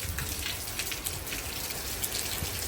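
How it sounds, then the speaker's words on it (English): Wind-blown rain spilling and splashing from a gutter during a severe Frisco, Texas thunderstorm with 40 mph gusts, a steady dense patter and hiss close by, without pause or talk. "The gutter rain is blowing out."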